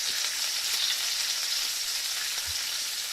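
A sizzling sound effect plays on a live stream, a steady broadband hiss like food frying in a hot pan, continuous and even for the whole stretch with no voices over it.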